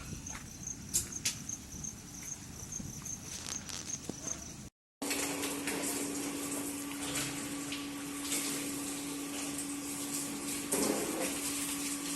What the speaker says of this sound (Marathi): हॉटेल आपण धुवून घेत आहेत